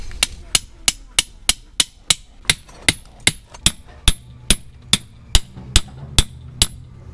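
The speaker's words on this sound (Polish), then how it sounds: "użyję tych dłuższych śledzi i wbiję je teraz tutaj młotkiem" A hammer drives long tent pegs into the ground to anchor a storm strap on a tent awning, about seventeen sharp, evenly spaced blows at a brisk steady pace, loud and close.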